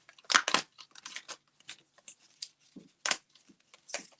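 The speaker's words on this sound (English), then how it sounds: "Very easy to punch out and get ready." Paper flower and leaf shapes punched out of a Stampin' Up! kit sheet, a series of crisp tearing and popping snaps, close and isolated, some louder than others with quiet gaps between them.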